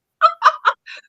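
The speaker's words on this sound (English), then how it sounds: "my favorite chickens clucking." Chickens clucking in a quick series of four short calls, the last one softer, loud and close against silence.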